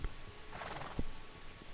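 A horse in Red Dead Redemption 2 gallops and clops across ground, with a brief neigh-like whinny and a heavier hoof thud midway, close and moderately loud over game ambience.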